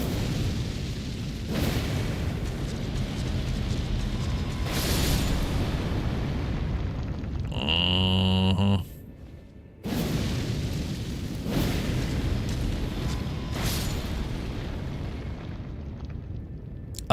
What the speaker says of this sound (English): y'all gonna explode, ain't ya?